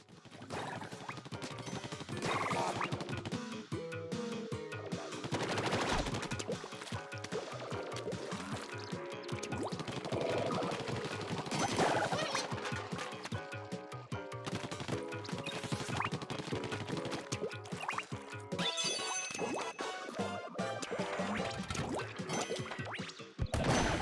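Ink splatters and sprays in the Splatoon video game come as dense, wet, crashing bursts over a continuous busy game soundtrack, loud and steady throughout.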